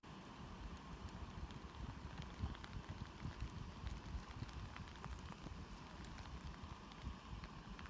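Light drizzle pattering steadily at a campsite on a thru-hike, a soft continuous hiss of rain with scattered faint drops, quiet and even throughout, no voices.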